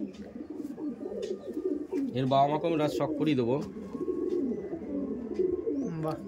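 Jack pigeons cooing close by in repeated throaty, rolling phrases, with someone talking over and between the coos throughout.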